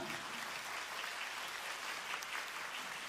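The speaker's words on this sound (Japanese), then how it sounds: "出演してくれたドロップスにもう一度大きな拍手を" Audience applause for the dance group Drops at a Kasama Inari festival collaboration event, a steady wash of clapping sustained for about three seconds, fairly distant and even, with no voices over it.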